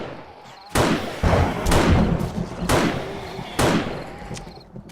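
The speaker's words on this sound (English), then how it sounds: "this is the point I should switch to my sniper rifle" Sniper rifle shots fired at an irradiated zombie in the survival game 7 Days to Die: four loud, sharp blasts spaced about a second apart, each with a short echoing tail over a low ambient game background.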